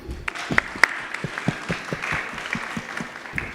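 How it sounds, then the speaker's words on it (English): Audience at a film and TV festival and awards event in Kenya gives sparse applause, a few distinct, separate claps against a quiet room with faint background murmur. "let's give a round of applause to the people standing"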